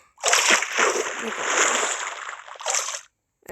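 Water splashing in a video game, probably Minecraft: a loud, continuous wash of splashing and sloshing for about three seconds, close and alone, with a brief second burst near the end.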